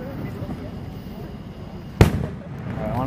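One loud firework blast cracks out about two thirds of the way through and rumbles briefly, after a stretch of quiet crowd murmur with a voice speaking near the end.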